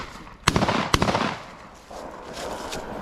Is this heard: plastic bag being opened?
no